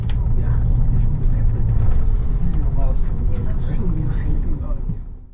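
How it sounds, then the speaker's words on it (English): A FlixBus coach pulls away from a bus stop, its low engine rumble and road noise swelling and then easing, with a voice talking over it and the sound fading near the end. "And we pull away from the bus stop at 8:40 sharp."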